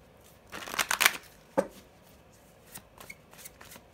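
A deck of tarot cards is shuffled and drawn close by, giving a quick riffling burst, a sharp slap, then softer scattered card flicks, all alone without talk.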